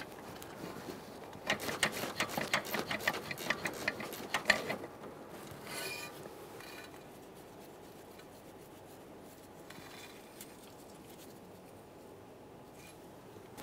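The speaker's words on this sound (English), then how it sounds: "I'm using a ratcheting wrench." A ratcheting wrench works 13 mm nuts off a bracket on a 2013–2020 Ford Fusion 2.0L. It makes a close, rapid burst of dense clicking, then a shorter run of clicks and a few faint ratchet strokes against quiet shop ambience.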